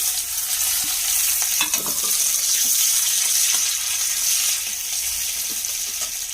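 Chopped onion drops into a hot pan of oil for a banana-stem and small-shrimp dish and fries with a loud, steady sizzle, broken by scattered clicks from a stirring utensil.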